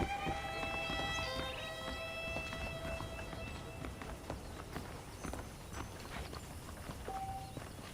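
Horse hooves clip-clop in a steady walking rhythm, fairly quiet, with a few musical tones drifting over the top, in the video game Red Dead Redemption.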